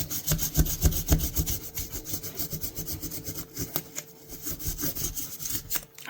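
Hand sanding with clogged sandpaper on a greasy part during a vintage Sabre Slimline restoration, a steady rhythm of close, rough back-and-forth scraping strokes, fairly loud with no talking.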